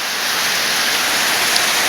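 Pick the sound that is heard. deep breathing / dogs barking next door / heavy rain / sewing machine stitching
heavy rain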